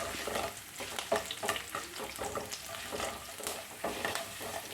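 Ginger, garlic and curry leaves sizzle in hot oil for mango pickle, a dense steady crackle broken by repeated close scrapes of a spoon stirring through the pan.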